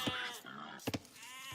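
Sheep bleating in the strategy video game Age of Empires, a few short nasal bleats in quick succession, clear and close over a steady game background.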